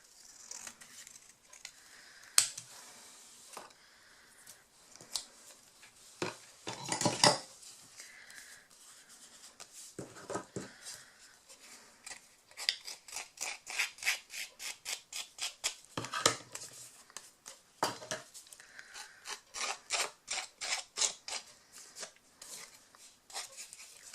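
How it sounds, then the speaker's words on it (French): Paper being cut with scissors for a romantic-style scrapbooking card, with scattered snips and rustles early on, then a long run of quick, regular crisp cuts, close and quiet with no speech. "Je vais le couper un petit peu plus là."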